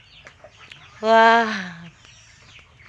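A backyard flock of mixed-breed and crossbred chickens: one loud, drawn-out squawking call lasts about a second, and a voice speaks briefly nearby.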